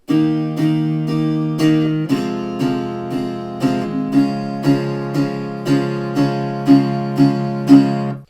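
Acoustic guitar chords strummed in a steady even rhythm, about sixteen strokes, close and clear, changing chord partway through, no voices.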